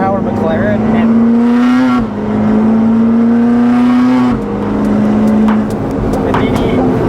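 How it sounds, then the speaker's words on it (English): An 1100 wheel horsepower McLaren pulls hard under acceleration, a loud sustained engine note rising in pitch with brief dips at gear changes, heard from inside the car. "Just casually ripping with an 1100 wheel horsepower McLaren"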